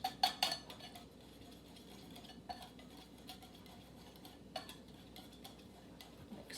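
A metal utensil mixes a meatball mixture with flour, salt and pepper in a bowl. A few clinks and taps open the clip, then comes quieter, steady scraping and stirring with occasional light knocks.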